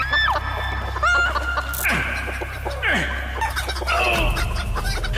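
Chickens cluck and squawk loudly and continuously during a crocodile-and-chicken feast stunt on a Spanish-set reality stunt show, with sharp pitch-sliding calls rising over a steady low hum.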